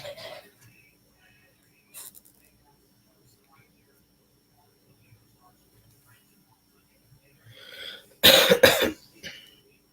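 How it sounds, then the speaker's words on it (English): A man with a lingering slight cough gives a short burst of harsh, close coughs near the end, after a brief throat sound early on, with near silence in between. "Still have a slight cough"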